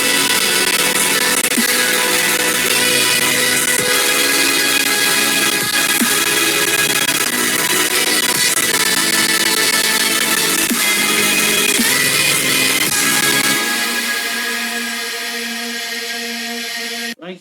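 Full mix of the drop section from a melodic dubstep remix, with dense, loud layered synths and drums that thin out near the end, no talking.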